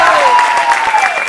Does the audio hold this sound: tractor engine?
no